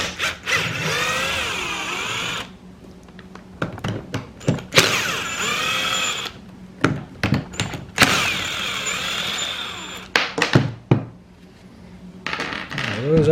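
T27 Torx screws are backed out of a Stihl MS310 clone chainsaw and set down, giving light metallic clinks and taps in scattered bursts, close and fairly quiet, separated by near silence.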